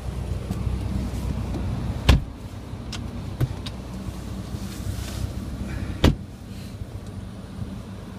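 A 2010 Mazdaspeed 3 with a six-speed manual gearbox on a test drive, heard from inside as a steady low cabin rumble with wind noise, plus a few sharp clicks and two louder knocks.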